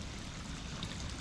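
Muddy floodwater rushes steadily out of a flooded valley near the Grose River in the Hawkesbury, a continuous dense roar with no pauses or voices.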